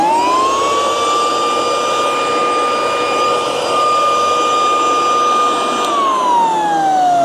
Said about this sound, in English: that's the blower.